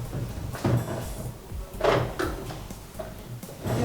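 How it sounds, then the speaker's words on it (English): A drawer slides open with a short scrape and knock inside a quiet room during a Nollywood drama scene, followed by faint rustling and handling sounds and a couple of soft bumps. "Help me open that drawer."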